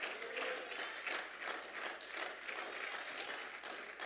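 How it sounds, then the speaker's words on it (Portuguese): A church congregation applauding during a sermon, many hands clapping in a continuous, even patter with faint pulsing swells, heard at a moderate distance and fairly quiet overall. "Você pode aplaudir o nome do Senhor. Bata palmas e diga aleluia."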